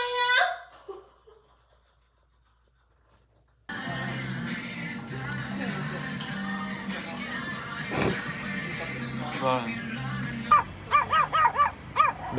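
A dog on a street in Osaka barks repeatedly, with sharp yips and whimpers rising over a steady ambient bed and nearby voices, the barking close and loud toward the end.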